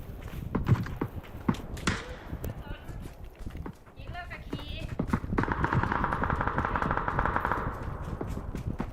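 Rapid bursts of gunfire and footsteps in the battle royale game PUBG, dense and loud over several seconds, with excited voices talking over the shooting.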